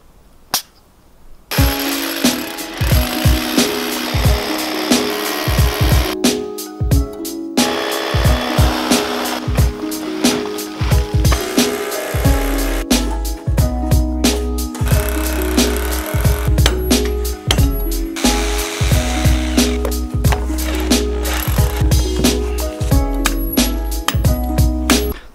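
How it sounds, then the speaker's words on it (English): A power tool breaks concrete out of the bilge of a wooden boat, a loud, close, harsh hammering and grinding that runs almost continuously, with a few brief pauses and a low rumble setting in partway. "I've been trying to get the concrete out of the bilge here and it's bloody difficult."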